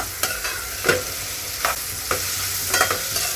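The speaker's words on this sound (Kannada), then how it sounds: "ಇದು ಒಂದು ಸಲ ಕ್ಲೀನಾಗಿ ಮಿಕ್ಸ್ ಆಗಬೇಕು, ಚೆನ್ನಾಗಿ ಫ್ರೈ ಆಗಬೇಕು." Vegetables stirred and fried in a pan, a steady sizzle broken by several sharp scraping strokes of a spoon, close and fairly loud with no talking.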